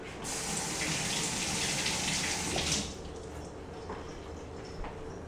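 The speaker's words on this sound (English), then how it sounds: "You run it under some water." A tap runs in a steady rushing stream over a peeled onion for a few seconds, then shuts off, leaving faint drips and quiet handling noises.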